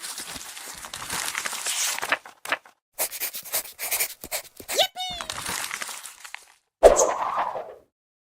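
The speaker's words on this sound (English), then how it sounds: "You've heard the paper crumbling" Sheets of paper crumple and crinkle in bursts of rustling, interrupted by short gaps, with a sharp exclaimed voice near the end.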